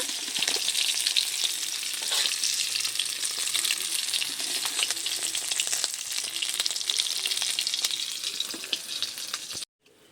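Fish pieces hiss and sizzle steadily in hot oil, a dense close frying crackle with occasional sharper pops, running unbroken until an abrupt cut at the very end.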